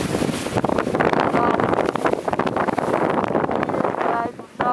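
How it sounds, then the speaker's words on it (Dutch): Strong wind buffets the microphone while sailing a Drascombe Gig on the way to Den Oever, a constant loud rumbling roar with water and boat noise beneath. "het waait best wel hard."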